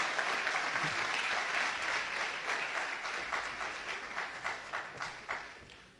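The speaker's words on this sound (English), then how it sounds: "please give a big round of applause once again for that fantastic session" Audience applause after a talk by a holistic doctor, a steady wash of many hands clapping that holds for several seconds and thins toward the end into a few louder individual claps.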